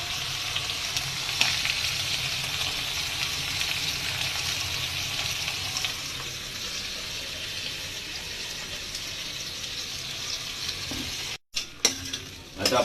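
Paneer sizzles and fries in a pan while being stirred, a steady loud crackle with scraping strokes, ending in a few sharp clatters.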